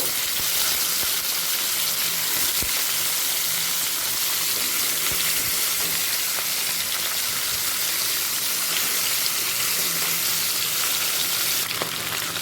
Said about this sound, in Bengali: মাছটাকে ভেজে নেব দিয়ে দিলাম সর্ষের তেল মাছের কাঁটাগুলোকে